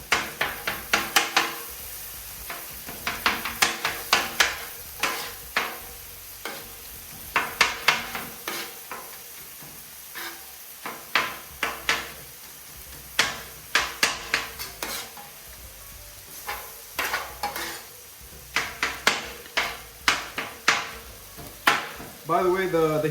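A metal blade chops onions and green peppers with beef on a hot CampChef flat-top griddle, sharp rapid clacks in uneven bursts over a soft sizzle, with someone talking in places.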